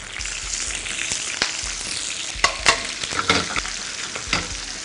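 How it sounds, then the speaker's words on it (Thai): Fresh shrimp frying in a pan of oil previously used for frying dried shrimp, a steady close sizzle with crackling pops and occasional stirring scrapes, no voices. "ผมจะ เอามาใส่กุ้งสดของเรา กุ้งก็จะลง ทอดในนี้ครับ ให้เขาสุกก่อน"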